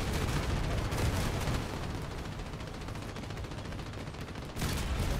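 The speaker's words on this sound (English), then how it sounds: "Oh, I can shoot guns now!" Guns firing in the vehicle combat game Crossout, a loud continuous roar of rapid gunfire and heavy blasts that thins slightly midway before a fresh burst near the end, with no talk.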